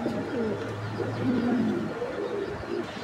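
Show-quality pigeons coo continuously nearby in soft, low, rolling calls that overlap one another, with faint chirps in the background.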